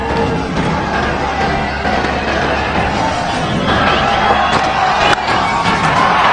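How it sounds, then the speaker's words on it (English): A dense, steady roar of a large cricket stadium crowd cheering for India's first runs against Australia in a one-day international, loud and sustained throughout with whoops rising near the end. "And just listen to the crowd."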